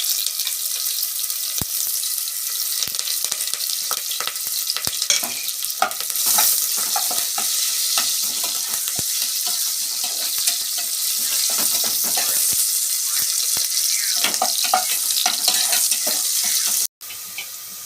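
Curry leaves and cut dried red chillies frying in hot oil in a pan, a steady crackling sizzle with occasional stirring clinks, continuous and fairly loud with no voices, cutting off briefly near the end.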